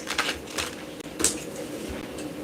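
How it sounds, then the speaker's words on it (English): Tarot cards being shuffled by hand, a quick papery riffling and tapping in short bursts, fairly close and fairly quiet, with no talking. "put this back, shuffle these"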